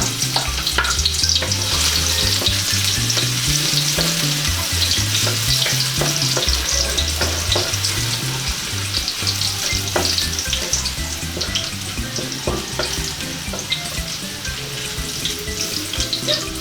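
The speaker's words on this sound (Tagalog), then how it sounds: "pwede na po nating igisa yung ating bawang" Garlic sautéing in hot oil for fish escabeche, a dense continuous sizzle with stirring clatter and scraping throughout, loud and close, no speech.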